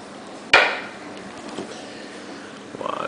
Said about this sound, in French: Donc je vais simplement ouvrir la bouteille.